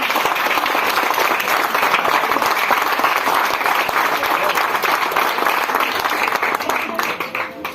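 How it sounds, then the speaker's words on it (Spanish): A church congregation claps loudly after a pastor's Bible study on Galatians, a dense sustained wash of applause filling the sanctuary that starts to taper off near the end. "No se siente sin antes aplaudir."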